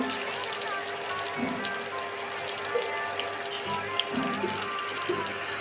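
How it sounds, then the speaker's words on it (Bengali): Onion and green chilies frying in hot soybean oil in a wok, a steady soft sizzle with occasional small pops and a voice speaking over it now and then. "কড়াই গরম হয়ে গেছে পেঁয়াজ কাঁচামরিচ দিলাম"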